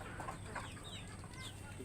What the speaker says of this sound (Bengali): পানি হওয়াতে আমার মুরগিগুলো অসহায় হয়ে পড়েছে।